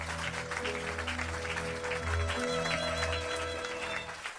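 A church congregation at a Paris worship service applauds and cheers loudly for God, sustained clapping with music or a held tone running underneath throughout.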